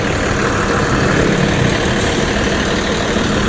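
A bus engine idles steadily with its engine hatch left open, a constant low rumble heard up close with no speech over it.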